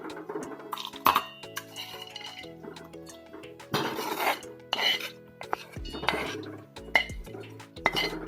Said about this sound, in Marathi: आपण आता ते मिक्सरच्या भांड्यामध्ये काढून घेऊ।